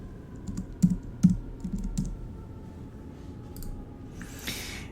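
Typing on a computer keyboard to rename a label: a short run of close, distinct key taps in an uneven rhythm, a few louder strokes, then quiet with a brief soft rustle at the end; no talking.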